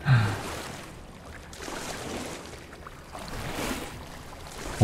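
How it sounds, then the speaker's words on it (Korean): Water flows steadily through a dark, low-ceilinged pool area in a video game, a continuous rushing wash that swells and eases with no voices over it. "물소리가 더 무서워"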